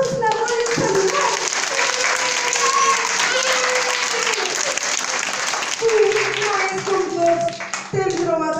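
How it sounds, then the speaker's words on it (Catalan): Cheering and applause fill a school gathering in Llosa de Ranes: dense, steady clapping from a crowd with children's shouts mixed in, continuous and close for the whole stretch. "Amb crits i aplaudiments, tots la volen saludar."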